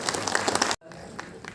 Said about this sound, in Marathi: जोरदार टाळ्या छाया कदम यांच्यासाठी झाल्या पाहिजेत